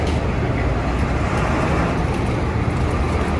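Jarlen Tour bus pulling into Goiânia bus station, a loud, steady diesel rumble blended with broadband road and station noise, with no pauses.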